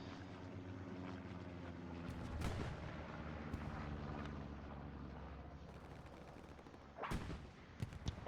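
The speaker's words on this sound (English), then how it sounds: "a tank v tank battle there, with the Cromwell being taken out by one of the heavies, Tiger or Panther" Tank battle in the World War II game Hell Let Loose, with a Cromwell facing a Tiger or Panther: a steady low engine rumble carries two heavy cannon blasts, distant booms and scattered gunfire.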